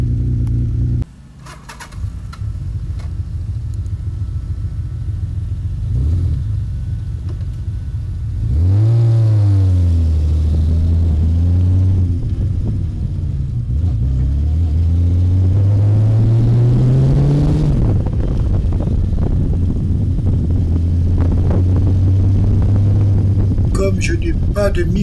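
A Kawasaki Z1300 motorcycle engine starts and idles, then revs up in rising and falling sweeps as the bike pulls away and rides. The engine is loud and continuous, and a voice speaks briefly near the start.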